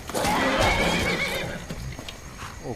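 A horse neighs loudly with a long whinny while being ridden during mounted archery in the video game Skyrim, followed by quieter snorts and hoof clops.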